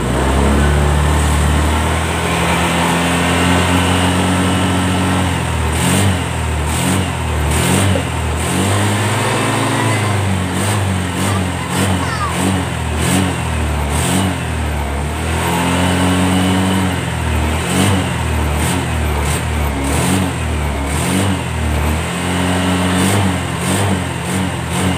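A Honda Vario 125 scooter engine revved repeatedly by hand on the throttle, loud and close, rising and falling in short bursts over a steady idle, with no voices.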